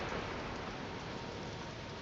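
Rain falling on a dock in the video game Docked, a steady, even hiss of dense rainfall with no distinct drops or thunder.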